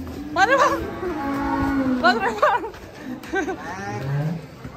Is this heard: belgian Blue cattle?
yes